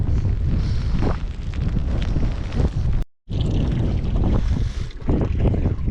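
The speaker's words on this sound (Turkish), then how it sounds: "Şöyle çevirdiğimde çok rüzgar sesi gelecek." Loud, steady wind buffeting a microphone outdoors on a November pasture with grazing cattle, a rumbling roar, cutting out briefly partway through before the gusting resumes.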